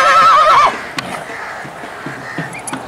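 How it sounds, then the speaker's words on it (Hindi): A two-tooth colt, a prize-winning show horse at a rural livestock fair in Hanumangarh, gives a loud, close whinny lasting about half a second, followed by quieter ambient noise and a few faint knocks. "बहुत अच्छा घोड़ा, देखिए इतना एक्टिव घोड़ा"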